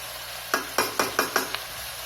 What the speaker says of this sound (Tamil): எல்லாம் ஒன்றா நல்லா கிளறி விடுங்க